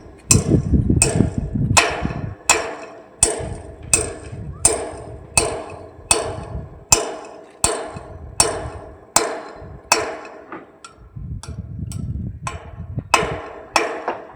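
Steady hammer blows driving metal fasteners into a wooden post for a kitchen roof frame, about two per second, loud and close, with a brief pause before the pounding resumes.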